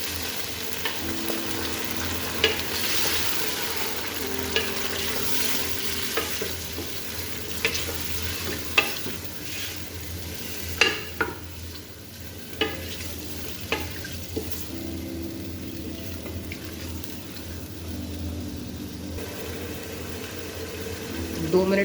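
Chicken pieces frying with ginger garlic paste in a pan, a steady sizzle running throughout with repeated scraping and clinks of a spoon stirring, close and moderately loud, a faint voice briefly in the background.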